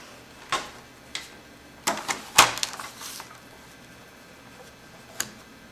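Paper being cut for a handmade book craft: a handful of sharp, separate snips and clicks spread over several seconds, close by, with quiet gaps between them.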